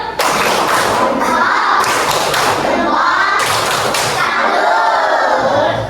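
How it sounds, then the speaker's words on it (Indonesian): A class of students doing a rhythmic group clapping chant in an Indonesian classroom, loud unison claps and thumps in quick bursts with shouted voices chanting along, close and energetic throughout. "Kasih tepuk salut terlebih dahulu untuk kita semua. Tepuk salut."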